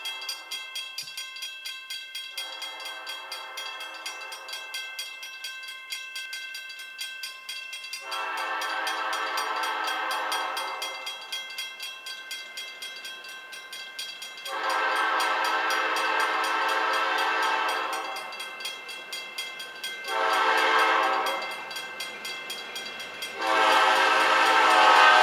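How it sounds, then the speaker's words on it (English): A gravel freight train bound for Boston passes through a small New Hampshire village near an old depot, sounding repeated long horn blasts in a sequence of loud tonal bursts over the rumble and clatter of rolling cars. "The train then awakes the small village of Union,"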